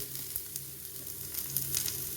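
Grated coconut frying in a pan for a kootukari curry, a steady close sizzle with faint stirring scrapes, continuous and without voices.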